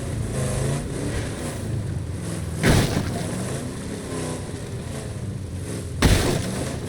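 Car driving in the zombie survival game State of Decay 2, a continuous engine rumble with two short louder surges, no talking.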